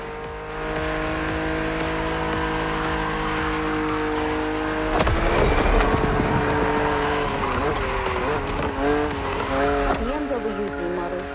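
A BMW Z roadster races an opponent in The Crew Motorfest, its engine droning steadily before a sharp burst of acceleration and squealing tires at mid-clip, then revving and skidding through turns, loud and close.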